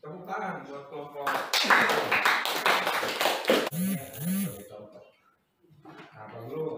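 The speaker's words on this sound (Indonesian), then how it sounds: "tepuk tangan buat kelompok" Students in a classroom clap for a presenting group, a short burst of scattered applause that rises amid talk and fades before voices resume.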